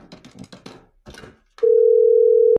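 A steady, loud telephone dial tone holds for about a second, then cuts off abruptly, following brief muffled talk on a call that was just redialed.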